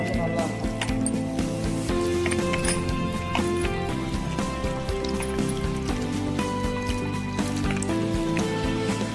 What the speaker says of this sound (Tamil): இதை வந்து நல்லா தண்ணி ஊற்றி ஒரு பச்சு மாவு பதத்துக்கு நம்ம வந்து நல்லா கரைச்சி எடுத்துக்கலாம்